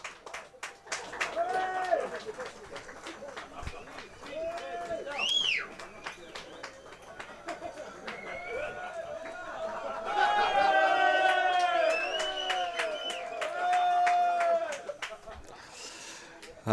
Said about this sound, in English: That's from the crowd in front of us.